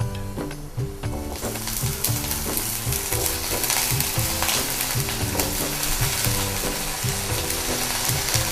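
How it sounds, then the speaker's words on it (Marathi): Potatoes sautéed in frying onion masala in a pan, a loud, continuous sizzle under repeated rhythmic scraping and stirring strokes close by. "बटाटे टाकली अशी परतून द्यायची"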